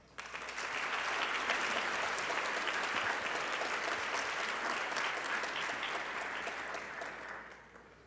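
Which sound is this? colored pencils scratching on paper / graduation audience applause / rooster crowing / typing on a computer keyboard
graduation audience applause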